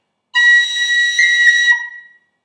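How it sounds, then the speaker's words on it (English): A high B roll played on a whistle with pip and tap ornaments, one bright sustained note broken by quick flicks of the fingers, lasting about one and a half seconds, close and clear with no voices. "Here's a high B roll"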